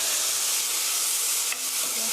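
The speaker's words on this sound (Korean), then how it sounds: "살짝 볶아주시고요." Paprika stir-fried in a pan for japchae, a steady close sizzle with faint scraping of stirring, running continuously without talk.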